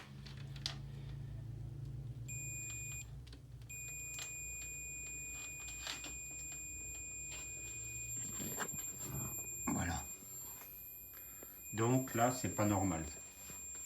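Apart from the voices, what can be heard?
multimeter beeping on continuity test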